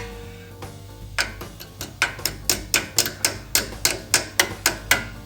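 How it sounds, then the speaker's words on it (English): Split pin on a Land Rover 110 Defender brake being tapped in with pliers, a steady run of about a dozen sharp metallic taps at a regular beat, close and clear over a low background hum. "Just tap it down lightly with a pair of pliers. Tap that in a little bit more"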